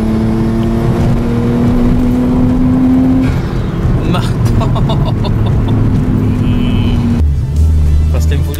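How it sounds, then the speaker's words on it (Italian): A Nissan Skyline GTS-T's RB25 turbocharged engine roars loudly, its turbo whine climbing and then cutting off with a blow-off, under ongoing talk. "Senti la turbina."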